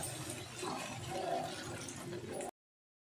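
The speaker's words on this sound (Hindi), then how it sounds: "चलाने के बाद इसमें हम पानी डाल देंगे।" Water is poured into a pan of Maggi noodles seasoned with salt and chili, giving a soft, steady rushing splash for about two and a half seconds at low level before it stops abruptly.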